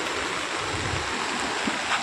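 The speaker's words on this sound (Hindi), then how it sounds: "नीचे कल बहती हुई मंदाकिनी नदी" The Mandakini river rushes in rainy-season flood beneath Tilwara bridge, a steady loud broadband roar of fast water with no voices.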